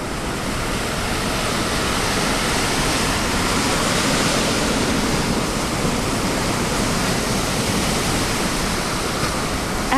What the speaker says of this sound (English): The wave hits land and rolls onward.